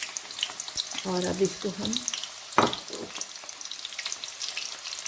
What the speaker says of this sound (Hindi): प्याज को हम ब्राउन कर लेंगे, बहुत ज़्यादा ब्लैक नहीं करने।